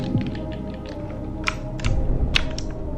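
Keys clatter on a mechanical keyboard picked up by a nearby microphone during a game, a few quick clicky taps over a low hum.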